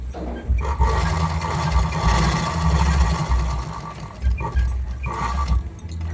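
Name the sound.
sewing machine stitching a saree fall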